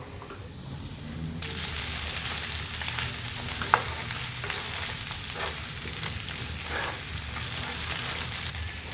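Mutton pieces frying in a pan over a high flame, a loud steady sizzle with occasional spatters and light stirring scrapes, continuous throughout.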